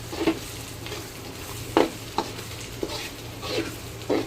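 A spatula scrapes and stirs through thick pav bhaji in a pan, with soft intermittent strokes over a faint steady sizzle.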